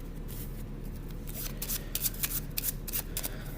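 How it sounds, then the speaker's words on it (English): A deck of playing cards is shuffled by hand, giving close, crisp riffling bursts that grow denser toward the end, with no talking. "Looks cooler if they shuffle these."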